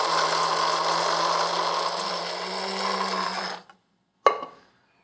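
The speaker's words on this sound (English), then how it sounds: "I'm going to put it into a spice grinder because I want it to be just a little bit finer." An electric spice grinder whirs loudly and steadily up close as it grinds herbes de Provence finer, then cuts off abruptly, followed by a single sharp knock.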